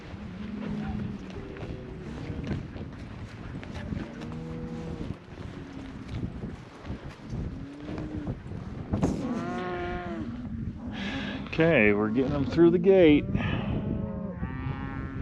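Cattle moo repeatedly in a vast open pasture, the drawn-out low calls overlapping near and far, while riders on horseback talk and wind buffets the microphone.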